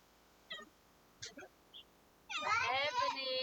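A cat gives a few short, soft meows spaced apart, then a louder drawn-out meow or caterwaul near the end, close and alone without talk.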